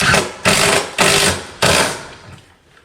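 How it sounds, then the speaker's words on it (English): An impact driver fitted with a nut driver hammers a screw into a wooden board in four loud, rattling bursts with brief pauses between, the last one trailing off. "I've just got a nut driver that goes in the impact"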